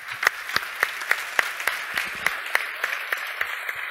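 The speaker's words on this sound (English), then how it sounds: "give a very, very warm round of applause for the jury members, Astrid and Niklas" An awards-show audience applauds the jury members, a steady run of claps about three or four per second over a crowd wash, fairly close and unbroken for the whole span.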